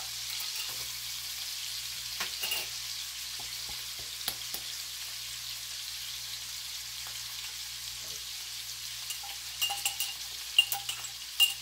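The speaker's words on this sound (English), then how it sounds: "And I'm going to add about a half a cup of onion." Chopped onion frying in a pan for a weekend dinner, giving a soft, steady sizzle throughout with occasional clicks and light stirring taps toward the end.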